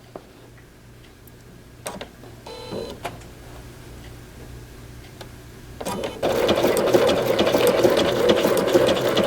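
A Bernina B790 Pro sewing machine setting up with soft ticks and clicks, then launching into a fast, steady close stitching whir that continues to the end.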